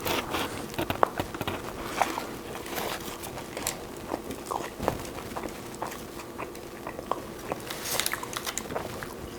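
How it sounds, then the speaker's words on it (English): Close-up biting and chewing of a Taco Bell taco, with repeated crunchy bites and mouth sounds scattered irregularly over a quiet room background, no talking. "Last taco, guys. Last bite."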